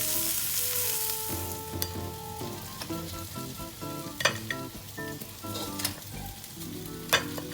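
Kerala crab roast cooking in masala in a pan, a soft, continuous sizzle close by, punctuated by several sharp scraping strokes of a spoon stirring, with no voices.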